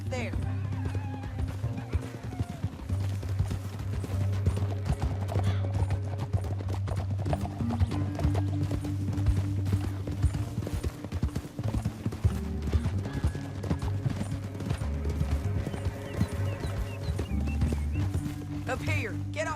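Horses galloping in Red Dead Redemption II, a fast, steady clip-clop of hooves under a rumbling orchestral score, with occasional whinnies and riders talking.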